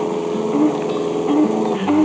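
A central-power oil-field engine, a copy of a Superior built in Bridgeport, Illinois, driving nine well pumps, runs with a steady low drone and faint regular knocks, moderately loud and continuous, with no voices.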